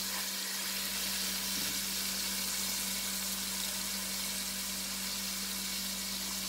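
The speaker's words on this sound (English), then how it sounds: "this is the last batch of pork chops that I'm making, and I'm going to flip it over" Pork chops fry in a hot pan as they are flipped, giving a steady, dense sizzle close up that runs unbroken with a faint low hum beneath it.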